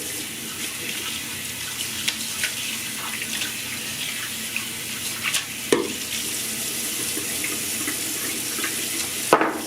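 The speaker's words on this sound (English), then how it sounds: "I'm gonna rinse out the lather bowl" Tap water runs into a sink to rinse out a shaving lather bowl, a steady close splashing hiss with occasional brief clinks and knocks of the bowl, no talking.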